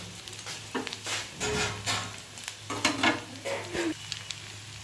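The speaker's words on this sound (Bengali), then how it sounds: "পেঁয়াজি ভাজা হচ্ছে গরম গরম পেঁয়াজি" Onion fritters sizzling in hot oil, with bursts of crackling and stirring scrapes, close and moderately loud, with a low steady hum underneath.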